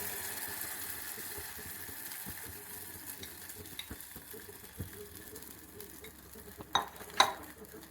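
Kalathappam batter poured into a hot pan, a quiet, low sizzle with faint stirring and a couple of louder clinks toward the end.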